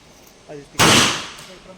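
A single sharp, loud gunshot cracks out at a firing range during proficiency firing and decays over about a second, with a voice speaking briefly just before it.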